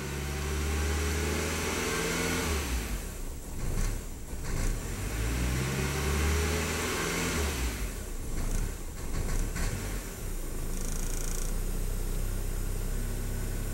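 A 1999 VW Passat engine with a faulty mass airflow sensor revs up to about 3,000 RPM and holds there as a steady, loud mid-pitched drone, with some rising and falling in the engine note.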